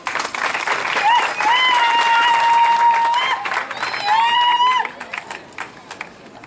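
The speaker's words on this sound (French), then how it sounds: "Ce discours mérite encore des applaudissements" A ceremony audience claps together at length, with whistles and cheers rising over it; the sound stays loud and steady for about five seconds and then thins out into scattered claps.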